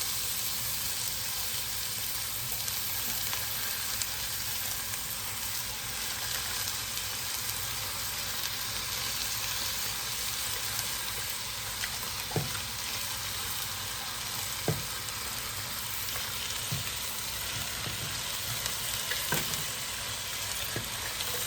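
Cabbage wilting in a hot pot for cabbage soup, a continuous close sizzle with occasional soft clicks of stirring, no voices.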